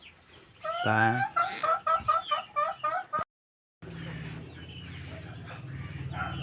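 Native Bisaya chickens cluck in a run of short, close calls at the start, followed by a steady farmyard murmur after a brief gap, with faint speech at low level.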